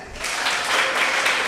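School contest audience at Golden Angels School clapping after a spelling round, a steady burst of applause filling the room alone for over a second before cutting off abruptly.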